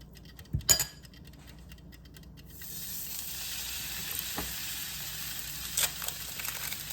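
Butter melts in a hot pan for grilled cheese sandwiches. After a couple of light clicks, a soft, even sizzle starts and keeps going, close and fairly faint, with occasional small pops and no speech.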